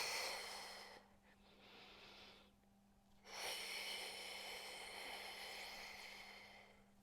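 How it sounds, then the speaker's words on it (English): Slow, deep breaths are taken during a breathwork exercise. Long airy inhales and exhales are close to the microphone over a faint steady hum, with a brief quiet pause between breaths. "Breathing."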